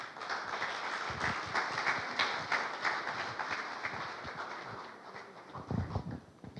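Audience applause after a conference talk on DevOps and platform engineering, a dense, steady clatter of many hands filling the room, easing slightly toward the end before a short louder burst.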